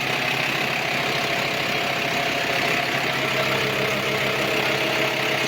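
Volkswagen T5 2.5 diesel engine idling steadily right after an oil change, a continuous close rumble with a faint knocking texture running unbroken throughout.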